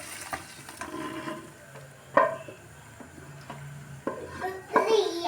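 Cooked Peshawari charsi mutton karahi being scraped and transferred into a wok, with metal utensils clattering against the pan in several sharp knocks over a low, steady kitchen background.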